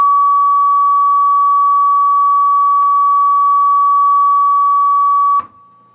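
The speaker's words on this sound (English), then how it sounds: "produce the resonant frequency of another glass, which is this, and play the frequency" Pure sine tone from a computer tone generator, tuned to a drinking glass's resonant frequency, holds steady and loud for about five seconds, then cuts off abruptly with a brief rattle.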